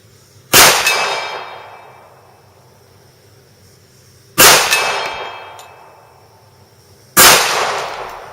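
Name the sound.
Kimber pistol being fired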